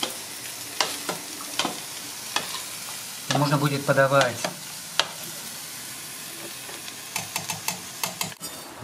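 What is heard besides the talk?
soup simmering in pot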